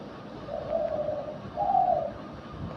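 Two soft, low coos from a dove, each a drawn-out hum, the second slightly stronger, heard alone against faint background hiss.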